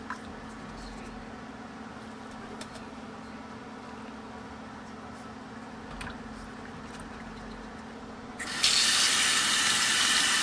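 Running water rinses bones in a sink, a steady, moderately quiet stream that swells into a louder, brighter gush near the end. No one speaks.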